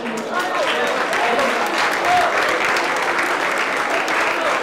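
An audience at an auction breaks into sustained applause after a winning bid, a thick wash of many hands clapping at steady loudness throughout, with faint voices blended into the crowd noise.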